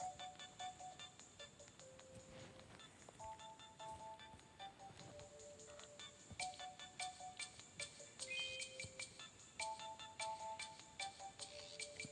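A phone ringtone plays inside a video game, a faint melodic electronic tune of repeating short tone phrases, steady throughout with no voice over it.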